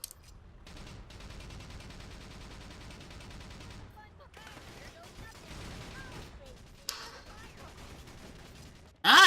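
Missile explosions in the video game Battalion Wars, a sustained rumble of rapid gunfire and blasts for several seconds, then scattered pops and crackles, ending in a sudden loud burst.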